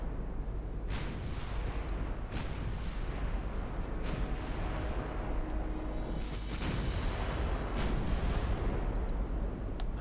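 Naval guns firing at very long range in the warship game Ultimate Admiral Dreadnoughts, a rumbling low-end wash punctuated by several sharp booming reports spread irregularly over ten seconds, with no talking.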